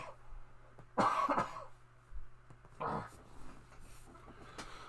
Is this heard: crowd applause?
no